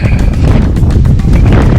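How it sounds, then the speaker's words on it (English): Strong wind roars steadily across the microphone on the final summit ascent of Mount Adams. The buffeting is loud and constant with gusty surges, and no voices can be made out. "You're not going to hear any of this because of the wind."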